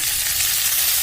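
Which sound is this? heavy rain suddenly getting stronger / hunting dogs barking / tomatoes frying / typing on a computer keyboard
tomatoes frying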